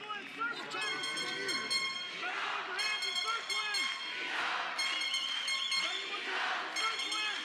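Arena crowd noise rumbling steadily throughout a freestyle wrestling match featuring Jordan Burroughs and an Iranian opponent, with a commentator talking over it and sustained horn-like blasts carrying through the roar.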